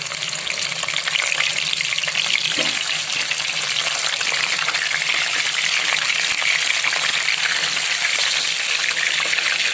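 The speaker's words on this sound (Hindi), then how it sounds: "तो फिर हम इसमें मछली के पीस फ्राई करते हैं।" Fish pieces fry skin side first in hot oil for a fish curry, giving a steady, loud, dense sizzle that runs unbroken throughout with no voices.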